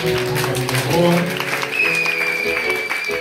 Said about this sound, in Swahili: Huyu anayeshika makofi kwa huyo mtoto jamani.